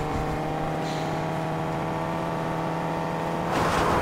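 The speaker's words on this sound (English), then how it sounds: "That car is too loud for considering how far it goes." A Fortnite car engine drones loudly and steadily, with a rising rev and extra noise near the end.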